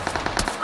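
Video-game gunfire rattles in a short rapid burst of about six evenly spaced shots, loud and close, from a battle-royale style shooter match.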